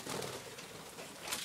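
A pet pigeon or dove coos in a low, continuous murmur, close and fairly loud throughout a short stretch with no talk.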